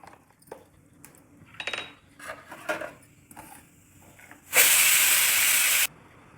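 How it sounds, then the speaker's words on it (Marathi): Cumin and mustard seeds hit 2-3 spoons of hot oil in a kadhai with a pinch of hing. A few soft metallic clinks are followed by a sudden loud, close hiss and crackle that lasts just over a second. "जिरे मोहरी छान तडतडलं"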